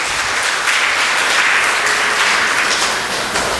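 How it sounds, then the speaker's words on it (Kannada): A church congregation claps in praise of God, a loud, dense and continuous wash of many hands applauding together that holds steady throughout. "ದೇವರಿಗೆ ಚಪ್ಪಾಳೆ ತಟ್ಟಿ ಸ್ತೋತ್ರ ಸಲ್ಲಿಸೋದು."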